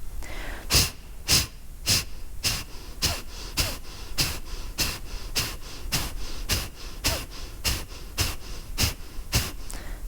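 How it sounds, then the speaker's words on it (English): Rhythmic yoga breath of fire, a string of sharp forced exhales through the nose pumping at a steady rate of roughly two per second, close and distinct with only quiet pauses between. "it's not a forced exhale and a forced inhale, it's only a forced exhale"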